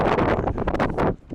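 Strong gusts of wind buffet the microphone outdoors on a road, a loud, rough rumbling roar that surges and dips before briefly easing near the end.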